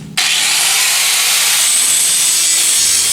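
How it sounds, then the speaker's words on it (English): An angle grinder bites into painted AR500 steel targets, stripping paint with a loud, harsh, continuous abrasive hiss that starts abruptly and runs steadily for about three seconds, close by. "now I'm gonna take the grinder and clean all this paint off so we can get us a good weld."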